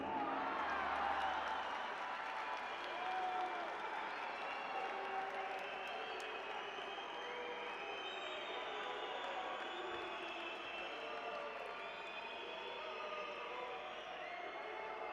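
A judo arena crowd at the European Championships in Kazan makes a steady, distant wash of voices, murmur and scattered shouts, sustained throughout without a clear peak.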